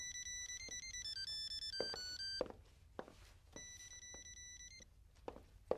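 Mobile phone ringing with an incoming call, a melodic electronic ringtone repeating its tones over quiet room noise, with a few soft knocks and footsteps.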